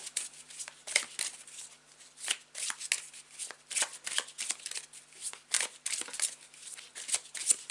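A tarot card deck being shuffled up close, with repeated riffling and slapping bursts of cards at an uneven rhythm, alone without talk.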